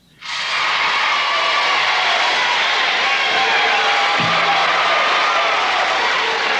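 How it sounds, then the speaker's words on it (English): Large crowd cheering and roaring on an old played-back recording, a broad steady wash of voices that swells in quickly and holds loud throughout, with a brief low tone near the end. "That's a great crowd, isn't it?"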